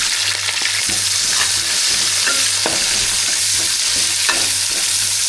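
Onions and curry leaves fry in hot oil with a loud, dense, continuous sizzle, close up, while a spoon stirs in repeated scraping strokes and a low steady hum runs underneath.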